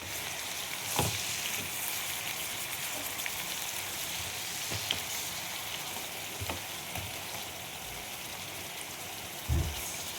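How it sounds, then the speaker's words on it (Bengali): Fish sautéing in a pan with green chilli, salt and turmeric, a steady close sizzle and crackle with occasional louder spits and stirring clatters, no talking. "সব একসাথে আমি এটা একটু কষিয়ে নিচ্ছি মাছের সাথে।"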